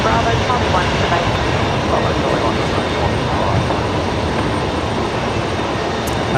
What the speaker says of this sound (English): I can hear a Fokker on startup. There it is.